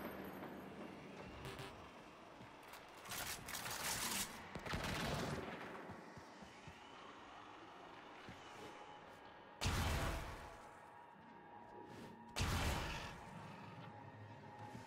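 Video game shooting in the Chain of Harrow mission: several loud, separate bursts of gunfire stand out against a quiet, rumbling ambient background, with pauses of a few seconds between them.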